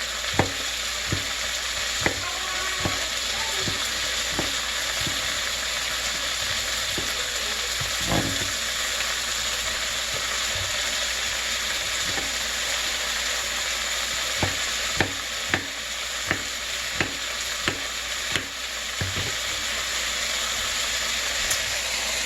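Sausage and cabbage soup ingredients sizzle steadily in a pot, with a spoon scraping and tapping against the sides in irregular clinks throughout.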